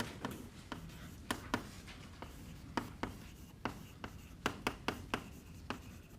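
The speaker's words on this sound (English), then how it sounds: "So let me draw that encryption algorithm." Chalk or marker strokes of a diagram being drawn by hand during a university lecture on distributed computer systems, a quiet run of about a dozen sharp, scratchy taps and short rubs in irregular rhythm, close and alone.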